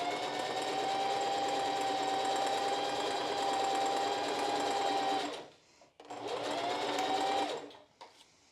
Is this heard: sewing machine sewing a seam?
yes